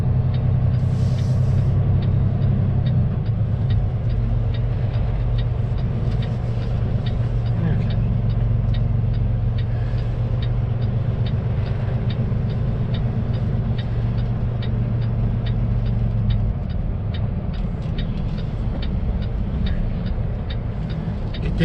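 Flatbed truck pulling up and parking by a curb, a loud, continuous low engine rumble with road noise and occasional hiss-like bursts, steady throughout with no clear pauses.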